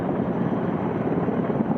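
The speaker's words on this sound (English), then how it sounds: "a steady stream of helicopters hovered low to scoop up loads of water" Firefighting helicopters hover low over a lake to scoop up water, giving a loud, continuous, rumbling rotor drone with steady buffeting and no pauses or voices.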